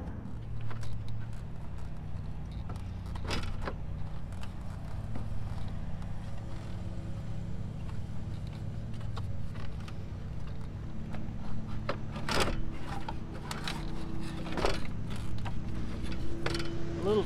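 A number 10 tool works out four bolts holding a car's radiator fan, with steady ratcheting clicks, creaks and scraping metal over a low background hum. There are a few louder knocks near the end and no talking.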